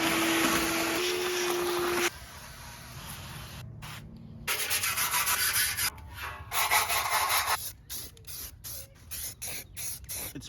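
Loud continuous hissing and whooshing, like a shop vacuum or air blower, cleans rust and dust out of a Traeger grill, shifting in tone and breaking into choppy bursts near the end.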